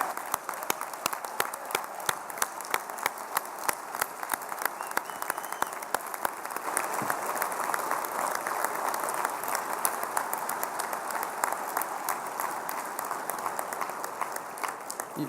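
Sustained, dense clapping from a banquet audience at the Goddard Memorial Dinner as they applaud a NASA team. It stays loud and steady for the full length with no speech over it.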